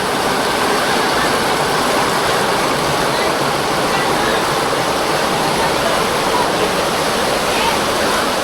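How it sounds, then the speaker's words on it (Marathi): A strong rush of rainwater pours down a slope on the way to the Mahalaxmi temple at Khaniwade, Virar, in monsoon rain, a loud, constant roar of flowing water, close and unbroken. "बघा केवढं पाणी वाहतंय."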